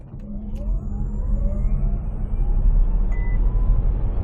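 An MG4 XPower electric car launching hard in sport mode, a rising electric motor whine building steadily over road and tyre rumble, loud and close from inside the cabin.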